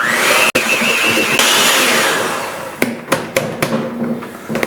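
An electric mixer whirs loudly through cookie dough of butter, granulated and brown sugar and eggs, a close steady motor whine that drops away, followed by several sharp knocks as the beaters tap the bowl.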